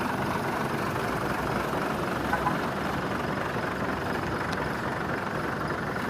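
A Hino RG bus with air suspension idles nearby, a steady, unbroken low engine rumble that holds at an even level throughout, with no voices.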